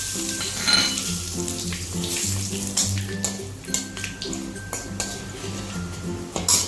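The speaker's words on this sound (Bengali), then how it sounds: "প্রথমে দিব গোটা জিরা, তারপর দিচ্ছি তেজপাতা, গরম মশলা" Whole cumin, bay leaf and garam masala sizzle in hot oil in a wok for a Bengali doi katla fish curry, a steady hiss with a few utensil clinks under rhythmic background music.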